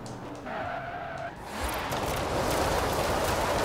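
A Ford Mustang drifting on a dirt road in Forza Horizon 4, its engine rising into a broad, hissing tire skid that grows louder and fills the end of the clip.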